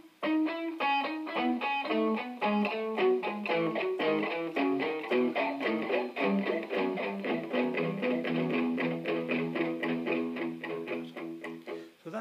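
Electric guitar phrase from the solo, as played live, rings out loud and distorted with a chorus-like effect, a quick run of sustained, bending notes filling the whole stretch with no talking.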